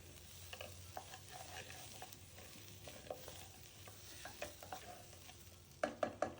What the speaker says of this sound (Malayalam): ഒന്ന് വെള്ളം തിളച്ച് വരുന്ന സമയം കൊണ്ട് നമുക്കിതൊന്ന് വറുത്തെടുക്കാം